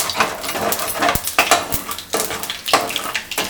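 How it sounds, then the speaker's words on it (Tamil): Spices are being tempered in the oil left over from frying dried seer fish (vanjaram karuvadu), giving a close, crackling sizzle with repeated stirring scrapes and the clink of a utensil against the pan, and no talk. "அந்த கருவாடு வறுத்த எண்ணெயிலே இப்போ தாளிக்கிறாங்க"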